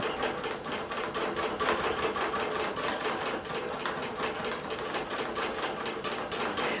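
A digital quilting machine sews with 40-weight variegated cotton thread, making a rapid, steady mechanical stitching clatter that is close and continuous, with no talk.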